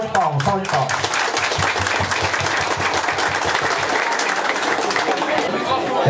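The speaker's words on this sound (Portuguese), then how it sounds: "Muito bem, então, uma salva de palmas." An audience at a cooperative's year-end celebration bursts into loud, sustained clapping with crowd chatter mixed in, and a voice speaks briefly at the start.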